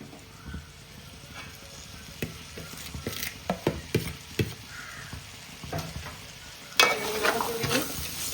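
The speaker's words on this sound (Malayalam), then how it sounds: "നമുക്കിനി സവാളയും ചെറിയ ഉള്ളിയും എടുത്ത് വെച്ചിരിക്കുന്നത് ഇട്ട് കൊടുക്കാം" Onions and small shallots sizzle in hot oil in a pan for chicken biryani and are stirred with a spatula. A steady soft frying hiss runs under a string of scraping taps, and a louder sizzling burst comes near the end.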